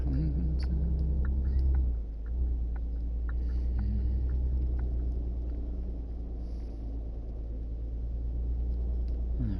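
A truck rolling over paving stones in the game Truck Driver: a continuous deep engine rumble and drone with faint, regular ticking clatter from the stones riding above it, close and steady throughout.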